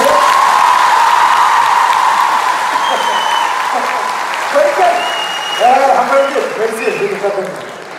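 Women in a hall audience clap together in dense, steady applause at a comedy show, thinning after a few seconds into scattered claps with a few cheers and voices mixed in.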